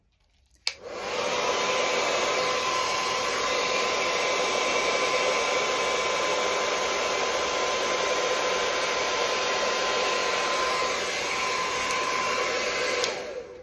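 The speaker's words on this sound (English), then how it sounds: "So, it's a better blower." Blower used for an acrylic Dutch pour painting switches on with a click and runs as a loud, steady whooshing whine close to the microphone for about twelve seconds before cutting off.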